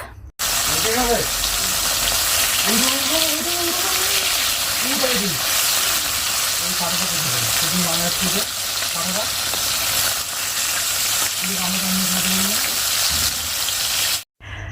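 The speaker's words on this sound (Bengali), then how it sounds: "ওই কড়াইয়ের মধ্যে আমি মাছগুলো ভেজে নিচ্ছি এক সাইড ভাজা হয়ে গিয়েছে এবারে উল্টিয়ে দিচ্ছি" Pond fish fry in hot oil in a kadai while being flipped, giving a loud, steady sizzle throughout, with a person speaking over it.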